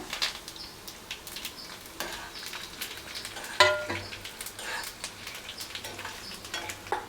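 Dried red chillies, garlic, mustard seeds and fenugreek fry in hot oil for a lemon pickle tempering. A steady, faint sizzle runs under repeated soft stirring scrapes, with one sharper clink near the middle and no talking.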